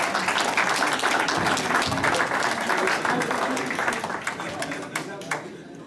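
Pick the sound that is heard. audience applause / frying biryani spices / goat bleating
audience applause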